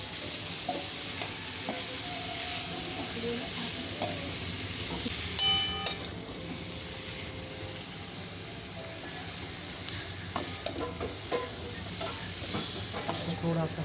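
Paneer, cauliflower, capsicum, tomato and potato fry with red chili, paneer masala and biryani masala in a pan for pulao, giving a steady close sizzle with occasional stirring scrapes and clinks.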